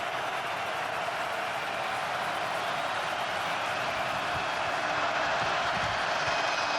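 A football stadium crowd roars on fourth and 3 at a UFL game between the Houston Roughnecks and St. Louis Battlehawks, a steady, broad wash of crowd noise throughout.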